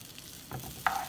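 Butter melts in a pot for a shrimp and beef seafood boil, with a brief, soft sizzle and a small clink near the end.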